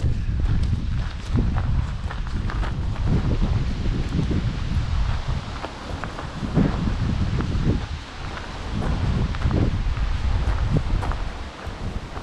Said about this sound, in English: It is very windy though